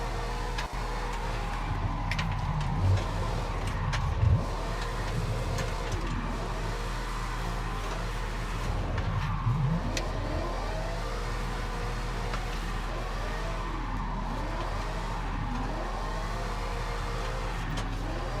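Car engine in the BeamNG driving video game, a steady droning hum with shifting revs and faint ticking over about eighteen seconds, quiet and without talk.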